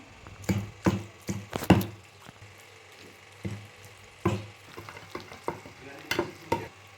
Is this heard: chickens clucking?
no